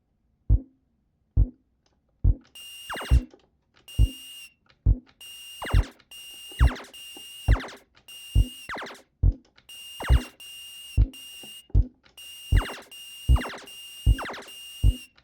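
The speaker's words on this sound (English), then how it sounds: "that sound is from the world over, that Space Invaders sound" Space Invaders arcade game effects: a descending four-note bass march thumping in a steady loop, overlaid with repeated shrill electronic beeps and zaps, all synthetic and close.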